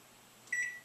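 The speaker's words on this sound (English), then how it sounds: "after 18 minutes, my timer went off" A kitchen timer goes off while steamed rice cooks: a single short electronic beep, fairly clear against a quiet room, with no talking.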